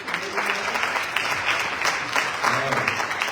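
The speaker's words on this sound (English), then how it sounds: "Let's give her a round of applause." A room at a community conversation summit gives a round of applause, a steady, fairly loud crowd clapping that holds throughout, with faint voices mixed in.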